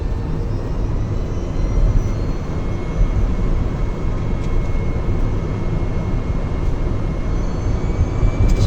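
A steady droning whine with a broad rumble holds throughout from a small Citroën Ami electric car driving, like an aircraft engine spooling up, continuous and fairly loud.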